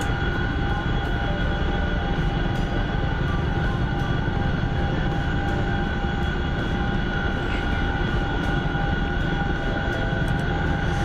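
Steady, loud, unbroken rotor and engine drone of an Apache attack helicopter trailing close behind a player in a military video game, constant throughout without talk.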